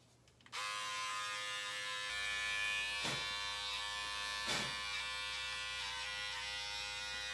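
A QuickCut electric hair clipper switches on and buzzes steadily up close, a loud continuous motor drone with a couple of brief louder bursts as it passes through hair.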